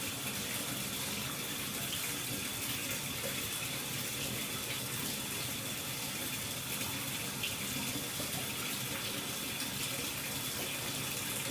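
Tap water gushes steadily into a tub being filled to soak a brass horn. The rush is loud and continuous throughout, with no talking.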